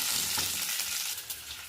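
Mustard seeds, cumin, dried red chilies and curry leaves frying in hot oil, a steady, close, dense crackling sizzle with small pops throughout, no voices.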